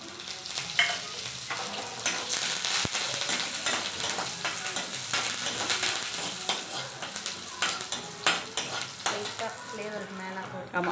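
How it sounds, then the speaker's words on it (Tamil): Urad dal and dried chillies sizzle in hot oil for tempering, a continuous crackling hiss with spitting pops and occasional utensil clinks, close and fairly quiet. "கொஞ்சம் உளுத்தம் பருப்பு செவந்த உடனே 2 காஞ்ச மிளகா தாளிச்சு கொட்டுறதுல போட்டுக்கலாம்."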